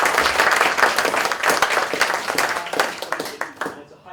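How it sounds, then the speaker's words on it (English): A live comedy audience claps in a sustained round of applause for about four seconds, dense and steady, then thins out and fades at the end. "I think that deserves a round of applause."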